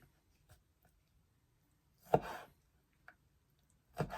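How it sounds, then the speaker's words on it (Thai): A knife slices food into large pieces for Hawaiian poke. A few isolated, soft cutting thuds on a board come up close in an otherwise quiet setting. "จะซอยเป็นตอนใหญ่ๆหน่อยหนึ่ง"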